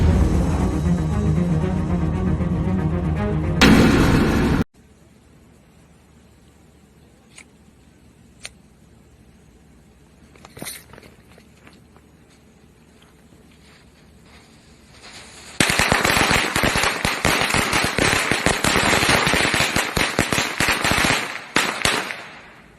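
Firecrackers and fireworks burst in New Hampshire: a loud blast, then near silence with a few isolated pops, followed by a long, dense barrage of rapid crackling explosions.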